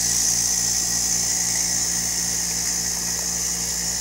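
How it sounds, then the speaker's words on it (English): A vacuum pump runs steadily during a vacuum purge of hexane honey oil, a constant mechanical hum with a high whine, alone and unchanging throughout. "now we are down to the vacuum purge"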